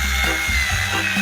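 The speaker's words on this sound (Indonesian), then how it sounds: "Mari kita mulai mengebor lubang kecil." A power drill bores a small hole into a watermelon, a loud, close grinding whir that runs continuously through the brief moment.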